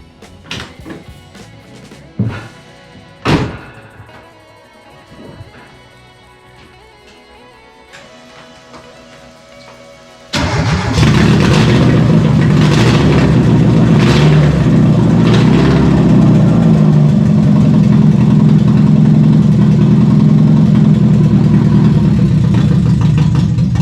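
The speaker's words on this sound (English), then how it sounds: "the car finally runs and I am super excited" A Triumph Spitfire fitted with a swapped Mazda MX-5 engine cranks with a few sharp bursts and clatter, then catches and runs loud and steady, its mid-pitched engine roar holding close and constant to the end.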